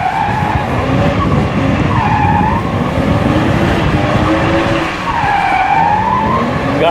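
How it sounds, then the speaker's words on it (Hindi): A car drifting on a track skids with tires sliding, a loud, sustained squeal rising and falling in pitch over engine noise for several seconds. "ओह, स्लिप कर रही है गाड़ी"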